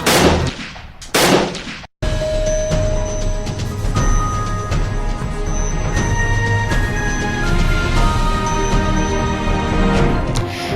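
Two sharp, loud gunshot-like bangs ring out in quick succession, then a brief silence gives way to a sustained droning musical bed.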